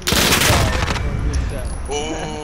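A rapid burst of gunfire in the shooter Call of Duty: Modern Warfare, loud close rattling shots for about a second that fade into ringing echo and softer game sounds.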